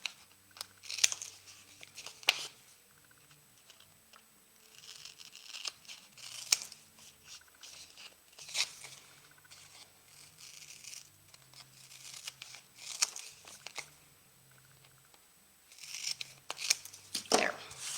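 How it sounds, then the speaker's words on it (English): Scissors snip through the corners of a folded paper craft piece, a series of short, crisp cuts at close range spread across the span with quiet gaps between them. "I'm going to cut the corner so that it's very close to this little corner fold"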